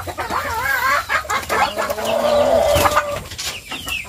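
Backyard chickens, including a laying hen, cluck and call up close in a pen, with a drawn-out wavering vocalization running through most of the stretch and no one speaking.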